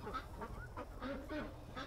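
Farm ducks give a run of repeated nasal quacks and honks, several calls overlapping close by with steady outdoor noise underneath and no talk.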